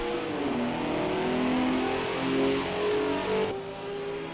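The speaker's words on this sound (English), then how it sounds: "As that car didn't rev all the way up." A GT3 race car engine short-shifts out of a turn on the Algarve circuit, its loud close roar climbing through the gears without revving fully, with no voices over it.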